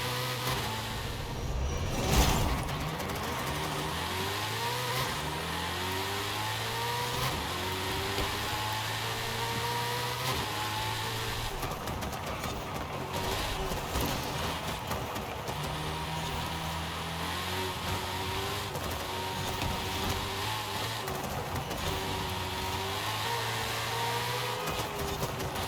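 A car engine in Forza Horizon 5 revs up and down through repeated gear shifts, rising and falling tones over a steady rumble, moderately loud throughout.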